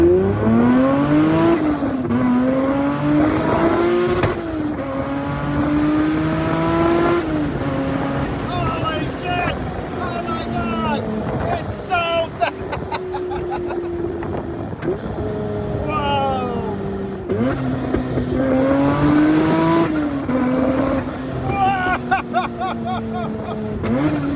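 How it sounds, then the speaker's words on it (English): Classic Mini Cooper fitted with a supercharged 3.5 liter V6 making 500 horsepower, heard from inside as the engine revs and climbs repeatedly through gears with rev-matched downshift blips, loud and close, with occasional voices. "The rev matches sound incredible!"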